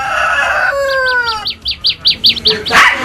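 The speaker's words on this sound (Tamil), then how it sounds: "அரவக்குறிச்சியை அடுத்த பூலாம்பலசு கிராமத்தில் சண்டை கோழிகள் தயார்படுத்தப்பட்டு வருகின்றன" Fighting roosters kept in a village and readied for Pongal cockfights give several clucks, followed by a quick string of sharp repeated chirps and a brief squawk, loud and close, with no voices.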